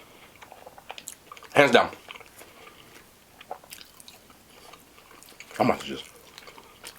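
Crunchy cornmeal-battered fried fish being chewed at a soul food restaurant, two close bursts of crunching bites separated by quieter pauses, with a person talking briefly between them.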